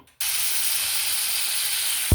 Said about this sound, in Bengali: আমরা চুলায় মাছ দিয়ে দিচ্ছি এবং এটা ডিপ ফ্রাই করব